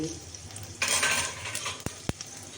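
A tempering of asafoetida and garlic sizzles in hot oil, a steady crackling hiss that flares up and then fades, broken by two sharp metallic knocks of a utensil against the pan. No voices.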